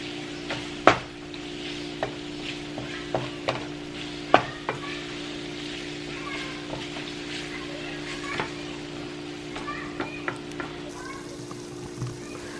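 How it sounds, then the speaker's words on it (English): Ground beef cooking in taco seasoning in a pan on the stove, with a low steady sizzle under scattered clinks and scrapes of a utensil stirring the meat, fairly close, with occasional talk in the background. "ground beef, finish cooking in the taco seasoning"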